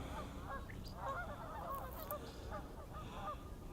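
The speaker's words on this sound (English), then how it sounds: "lots of geese having no doubt a convention here. Some kind of a winter geese convention happening here in Central Park" Winter geese gather on open water in Central Park, honking over and over in a dense, overlapping chorus that stays steady and fairly close throughout.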